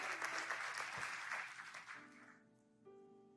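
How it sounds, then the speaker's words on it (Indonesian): Youth worship service crowd giving loud, enthusiastic applause that fills the hall, then fades out while a sustained keyboard chord rings underneath and carries on alone. "kasih tepuk tangan yang paling meriah"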